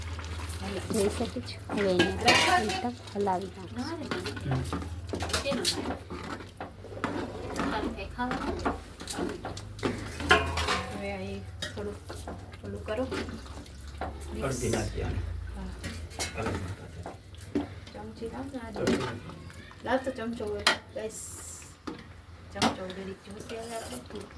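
Boiled chickpeas are tipped into a cooking pan for a chole dish and stirred, making scattered clinks and scraping knocks of a spoon against metal while voices talk over the cooking.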